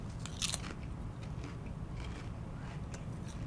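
Someone bites into sea salt and vinegar Pop Chips, giving a few faint, close crunches at the start and then quieter chewing.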